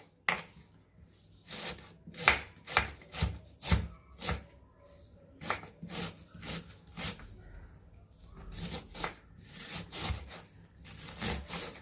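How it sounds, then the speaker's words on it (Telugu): A knife chops onion finely on a board in quick, sharp, evenly spaced strokes, close and crisp, coming in bursts with brief pauses and no talk. "సన్నగా ఆనియన్ని కూడా ఉల్లిపాయ కట్ చేసుకొని అందులో కలుపుకుందామండి"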